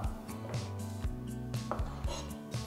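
A knife chops a large fresh cucumber on a cutting board, giving sharp, close, fairly regular thuds about every half second against a quiet background.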